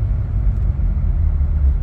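Low, steady engine and road rumble from inside a 2007 Honda Civic driving smoothly after a misfire repair, a continuous deep drone with no talking.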